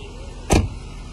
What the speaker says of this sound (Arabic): هسه هي دا تصعد السيارة